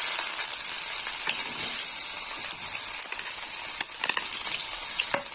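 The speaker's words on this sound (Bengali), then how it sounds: "এবার আমি পেঁয়াজটা ভেজে নেব।" Onion frying in hot ghee for a Bengali rohu fish curry (mahi kalia), giving a continuous bright sizzle and hiss with small crackles and pops scattered through it. The sound stays close and steady, with no talking.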